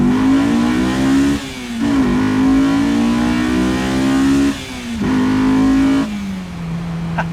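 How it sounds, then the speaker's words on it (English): A Honda S2000 engine drives steady, buzzy engine tones that rise and dip in pitch, with several short throttle blips between plateaus, loud and close with no talking. "The idle is just absolutely perfect."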